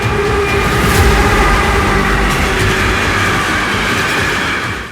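Hydrogen-powered passenger train running on rails: a loud, close, continuous rolling roar with clattering wheels and faint squeals, steady throughout before easing off at the end.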